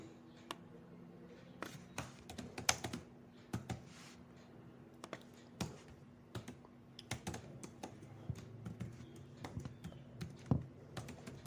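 Python code being typed on a computer keyboard: irregular bursts of close, crisp key clicks and taps over a low steady hum, without speech.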